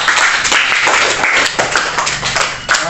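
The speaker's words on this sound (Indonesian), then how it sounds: "Mari kita sama-sama kita tepuk tangan." A classroom of students claps together for their classmates during a lesson on a hadith. The close clapping is loud and busy, with many hands in a fairly steady patter that runs through the whole stretch, and no one speaks.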